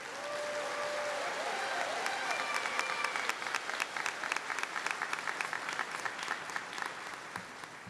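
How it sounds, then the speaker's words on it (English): Sustained applause from a crowd celebrating Class of 2025 Associate Degree Nursing graduates at a pinning ceremony, dense and steady throughout with sharp individual claps standing out and a few faint voices underneath. "You deserve that round of applause"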